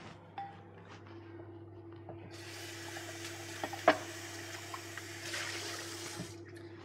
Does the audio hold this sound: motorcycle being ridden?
no